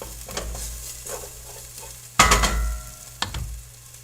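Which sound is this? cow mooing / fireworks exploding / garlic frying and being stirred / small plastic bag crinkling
garlic frying and being stirred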